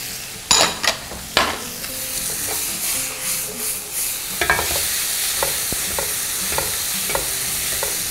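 Tomatoes and mushrooms are stir-fried in a hot pan, a loud continuous sizzle broken by several sharp spatula knocks and scrapes against the metal. No one speaks.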